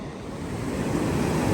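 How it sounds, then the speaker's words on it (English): Big ocean waves breaking on a beach in Vietnam, a broad steady roar of surf that builds slightly over a second and a half, with some wind noise on the microphone. "Ooh, these are big waves."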